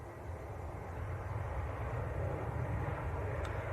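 Turkish Airlines Airbus A321neo from Istanbul passing at an airport, a steady broad roar of jet engines holding loud and even throughout with no voices over it.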